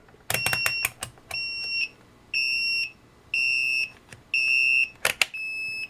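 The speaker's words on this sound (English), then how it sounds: "Next, we'll compare the continuity test for the 5 different meters." Hioki DT4252 multimeter on continuity test, giving a series of high, steady electronic beeps of varying length with short gaps and a few probe clicks between them, close and clear with no talking.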